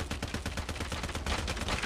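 Rapid hip-fire gunshots in Call of Duty Mobile, a fast stream of loud sharp shots in quick succession with a brief heavier burst near the end, no talking.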